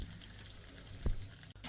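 Water gushes and splashes steadily from a loose fitting on a home heating system, with a brief louder spurt near the end.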